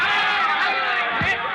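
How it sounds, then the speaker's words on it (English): Dense, steady roar of a boxing fight crowd in a radio drama ring scene, a loud continuous wash of voices and shouting with a dull thud near the end. "the thud of their punches echoing dully above the roar of the crowd"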